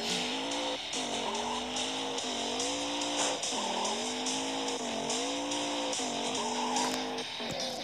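Video game car racing and launching down a ramp, a loud, continuous engine whine rising and falling in pitch with tire screeches and hiss on top.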